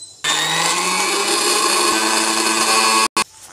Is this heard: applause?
no